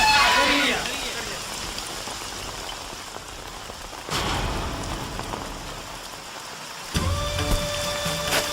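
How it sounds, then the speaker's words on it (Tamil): Steady rain pattering on a surface in a Tamil film scene, a dense hiss that swells louder partway through, with brief voices and clatter mixed in. "மழை வந்துருச்சு."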